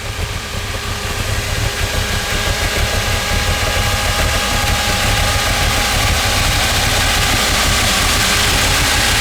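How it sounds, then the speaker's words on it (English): A 1966 Ford Fairlane GTA convertible with a 390 four-barrel V8 idles steadily close by, a loud, even low rumble with a slight throb that holds without a break and has no talk over it. "Powered by its believed to be original 390 4-barrel V8 engine."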